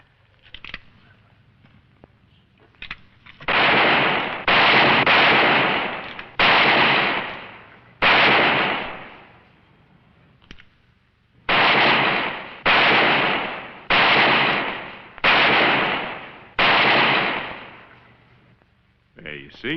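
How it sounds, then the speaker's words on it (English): Old-west revolver shots fired at tin cans ring out in a burst of about ten loud, sharp blasts, each with a long echoing tail. They come in two rapid volleys with a short pause between them. "Well, that's real fine shooting, Mr. Allison."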